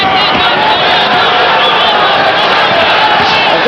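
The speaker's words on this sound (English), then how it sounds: "A very partisan crowd here in Boston in favor of Hagler, who comes from Brockton" A partisan Boston boxing crowd roars steadily and loudly for hometown favorite Hagler, a dense, unbroken wall of cheering that fills the whole stretch.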